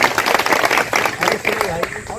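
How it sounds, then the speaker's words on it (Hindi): A crowd at a farmers' union protest outside an electricity sub-division office claps in a quick burst of dense, close applause, with a voice mixed in. "चलो एक बार ताली बजा दो।"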